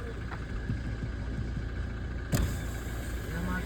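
Car engine idling, a low steady hum holding beneath faint background activity, with a brief clunk partway through.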